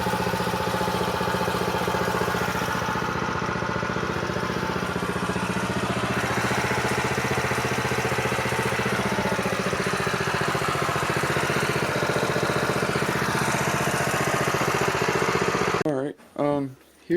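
Small engine running steadily with a mid-pitched buzzing drone as the carburetor runs dry, close and continuous, with voices talking over it before the engine sputters and cuts out near the end.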